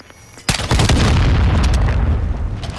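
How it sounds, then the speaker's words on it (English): A loud explosion in Call of Duty: Modern Warfare II bursts in after a brief quiet moment, then a sustained rumbling roar with debris crackle that slowly tapers off, no voices. "I just hit him with one like bullet and then he blew up"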